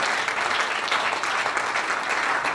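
A church congregation applauding during a Sunday service, steady dense clapping that holds at even strength for the whole stretch with no voices over it.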